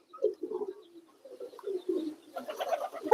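Pigeons inside their coop coo in soft, repeated throaty phrases, close and moderately loud, growing busier toward the end.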